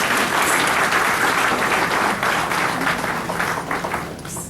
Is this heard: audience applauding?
yes